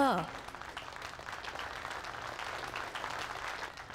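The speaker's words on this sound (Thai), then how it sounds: "ยินดีต้อนรับผู้ชนะของเราด้วยเสียงปรบมือดังๆหน่อยสิคะ" A studio audience applauds to welcome the winner of a contest on a Thai-dubbed television drama, with a steady patter of clapping after a short burst of a voice at the very start.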